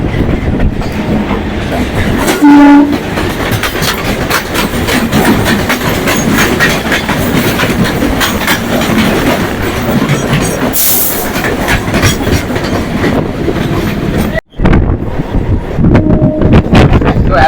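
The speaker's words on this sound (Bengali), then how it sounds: "ট্রেন ঢুকছে" A suburban train pulls into a station near Ballygunge Junction on the Kolkata to Diamond Harbour line, a steady close rumble of wheels and carriages with rhythmic clatter and wind buffeting, continuous for the whole stretch.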